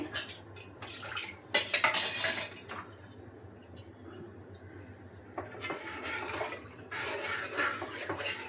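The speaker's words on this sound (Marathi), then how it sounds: "मिक्सरचं भांडं वगैरे पण असं धुवून घेतले" A mixer jar and dishes clatter and clink in bursts while being rinsed, with running water and scraping between, close by and fairly loud.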